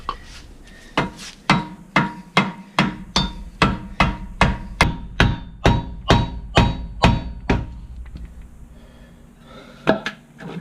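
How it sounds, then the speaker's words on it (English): A hammer strikes a wooden board about fifteen times to drive a rear wheel bearing through on a Pontiac GTO/Holden Monaro, steady, even rhythm, close and loud, then a brief pause and two more blows. "using a board and a hammer to drive this through"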